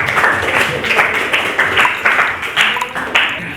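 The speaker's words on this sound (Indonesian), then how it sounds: "tepuk tangan untuk kedua narasumber" Classroom applause for two guest speakers during a sociology teaching-practice lesson, a steady wash of many hands clapping with rhythmic surges throughout, fairly close and loud, with voices mixed in.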